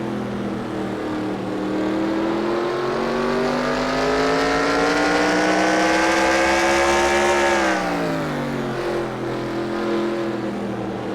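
A race car in a racing video game at Martinsville Speedway holds a loud, close, steady engine whine that climbs in pitch. It drops sharply as the driver brakes hard into the turn, then settles at a lower tone, with no talking.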